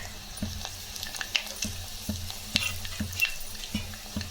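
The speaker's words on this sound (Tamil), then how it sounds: "இப்போ காஞ்ச மிளகாய் 2 போட்டுக்கலாம்." Two dried red chillies hitting hot oil with popped mustard seeds, a light crackling sizzle punctuated by sharp taps and spattering pops, close by.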